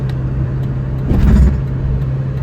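A Nissan Pao small car's engine drones steadily at full throttle on a top speed run, a constant low hum that swells briefly with a louder rumble midway.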